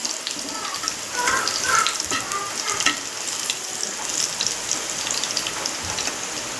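Something sautéing in a pan until reddish-brown before marinated Indian salmon goes in, a soft continuous sizzle with a brief louder burst of crackling, close and unaccompanied by talk.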